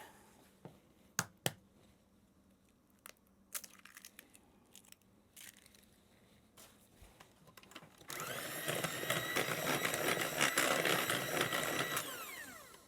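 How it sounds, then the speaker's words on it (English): A mixer beats an egg into cake batter of butter and brown sugar, a steady loud whirring drone that starts partway through after quieter clicks and kitchen handling noises. "now I'm going to beat in 1 egg"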